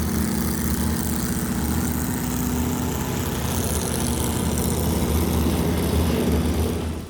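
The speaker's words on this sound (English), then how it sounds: "our first boat away was Gord Humphrey." A racing boat engine in a marathon race, a steady, loud drone with a low throbbing hum that holds constant throughout, like a powerful motor running nearby.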